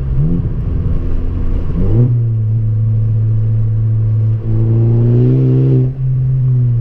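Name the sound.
2014 Ford Focus ST engine revving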